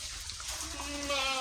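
A goat lets out a drawn, wavering bleat toward the end over a quiet background hiss.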